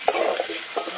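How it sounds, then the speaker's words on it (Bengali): Cut potatoes fry in hot oil with dried chilli, bay leaf, cumin, turmeric and salt, a steady close sizzle broken by a few soft stirring knocks in the pan. "এই আলুগুলো ভেজে নেব"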